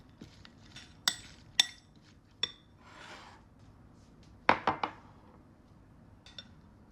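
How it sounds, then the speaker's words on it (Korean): Julienned cucumber tossed with a teaspoon of salt in a mixing bowl, giving a few sharp clinks and taps of a utensil against the bowl with soft rustling between, quiet and close, no voices. "채썬 오이는 믹싱볼에 덜어주고 소금 한 작은술 정도만 넣어서 섞어주세요"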